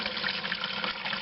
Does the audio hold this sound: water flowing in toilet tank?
yes